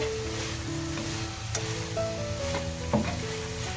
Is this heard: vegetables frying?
yes